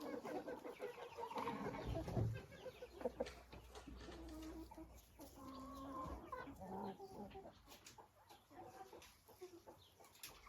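Hen clucking in a backyard flock, a series of soft, uneven clucks and short calls over roughly ten seconds, fairly quiet and close, with no speech.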